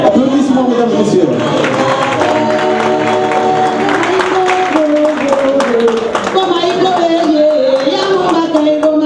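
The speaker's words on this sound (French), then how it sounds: "Applaudissements, mesdames et messieurs." Audience at a Paris foundation gala dinner breaking into sustained, loud clapping and cheering, which runs steadily under a presenter's voice and background music.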